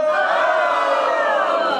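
Crowd at a poetry performance yelling "Ho!" together, a loud sustained group shout, close and full.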